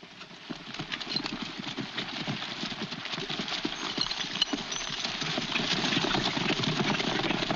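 Horses gallop off in a 1940 Western serial, their hooves drumming in a dense, rapid clip-clop that grows steadily louder and fuller, with a low rumble beneath.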